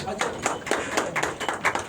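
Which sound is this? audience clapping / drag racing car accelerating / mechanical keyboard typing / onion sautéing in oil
audience clapping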